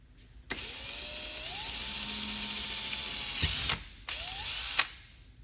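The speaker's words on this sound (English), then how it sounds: "Drill through where I marked." A power drill fitted with a 1/8 inch bit bores into a Land Rover Defender, its motor whining up in pitch as it spins. It stops briefly, then gives a short second burst, with a few clicks and knocks in between.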